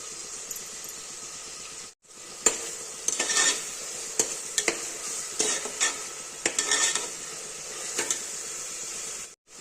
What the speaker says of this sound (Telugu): ఇప్పుడు కట్ చేసి పెట్టుకున్న టమోటా వేసుకుందాం అల్లం వెల్లుల్లి పేస్ట్ వేసుకుందాం